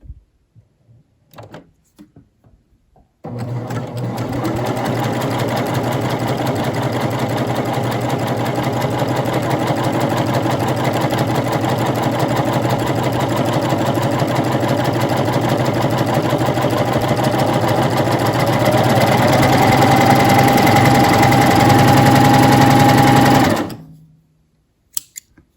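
A coverstitch sewing machine runs continuously for about twenty seconds with a fast, even mechanical whir that rises slightly in speed near the end before stopping, without talking.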